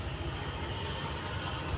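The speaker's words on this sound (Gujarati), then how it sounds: "ટ્રેન જાય છે, અવાજ આવે છે." A train runs past near a house after dark, a steady, close rumble with rattling wheel noise that holds at an even level through the whole short stretch, with no talk.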